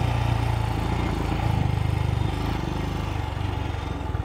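Royal Enfield Scram 411 motorcycle ridden over a rough dirt track, a steady pulsing engine thrum with a dense low rumble and wind noise, close and continuous.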